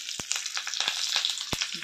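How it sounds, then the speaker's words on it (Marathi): Mustard seeds, cumin and curry leaves crackling in hot oil for a tempering, a steady close sizzle scattered with sharp pops and spatters, with no voices. "मोहरी तडतडायला लागली"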